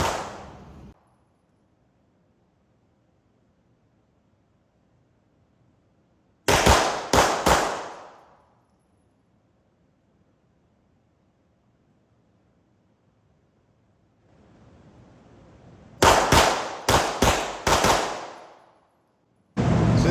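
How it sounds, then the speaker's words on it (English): Pistol shots fired in a USPSA target transition drill, two tight strings of sharp, loud reports in quick rhythm separated by long quiet pauses, close and alone with no talking. "we are going to do 2 shots middle, 2 shots right, 2 shots middle, 2 shots left"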